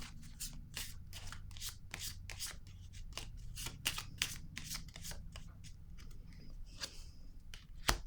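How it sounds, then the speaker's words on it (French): Tarot cards handled and set down on a table, a quiet run of crisp card snaps and taps in an irregular rhythm, close and soft with no speech. "Je vais déposer une carte sur l'obstacle."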